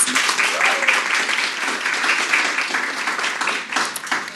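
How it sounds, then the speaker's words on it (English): A student audience at a UWC co-curricular awards ceremony breaks into loud, continuous applause, dense clapping throughout with faint voices mixed in. "Give yourselves a round of applause"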